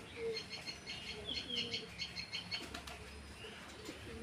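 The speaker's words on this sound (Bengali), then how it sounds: "এই যে পায়রা নামছে।" A pet pigeon flaps its wings in a few quick, faint bursts as it comes in to land on its rooftop perch, with soft bird calls nearby.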